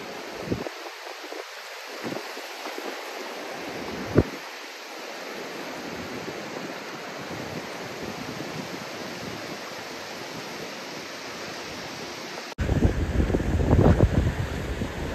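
Waves wash onto Mandrem beach in North Goa while wind buffets the microphone. A continuous broad roar of surf holds steady, broken by a few sharp gusts, then swells louder and closer near the end, with no voices.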